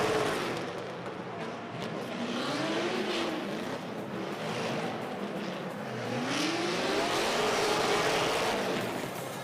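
Gymkhana cars launching off the line at Yas Marina Circuit in Abu Dhabi produce moderately distant engines that sweep upward in pitch again and again as they rev and accelerate.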